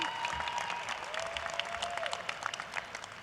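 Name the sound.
audience applause at commencement ceremony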